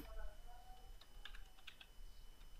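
Keys tapped on a computer keyboard while typing a short comment, a quiet run of light clicks clustered mid-clip with faint background hum.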